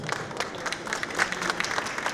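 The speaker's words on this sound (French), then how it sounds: "On peut applaudir nos intervenants bien fort." Audience applauding the speakers at a French conference on disability and agriculture, a dense, steady wash of many hands clapping at moderate level throughout.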